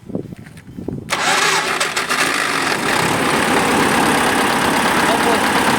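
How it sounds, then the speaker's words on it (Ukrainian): A restored YuMZ-6KL tractor, cold and not yet warmed up, cranks briefly after some quiet clatter, then its engine catches with a sudden roar and settles into a loud, steady, rough idle. "і заводимо трактор."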